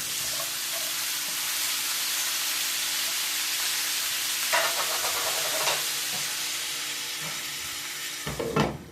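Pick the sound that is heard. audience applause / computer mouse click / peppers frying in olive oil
peppers frying in olive oil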